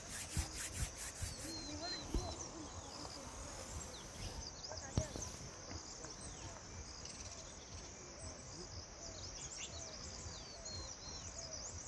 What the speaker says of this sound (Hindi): अपनी दोनों हथेलियों को रगड़कर अपने मुखमंडल पर फेर लेंगे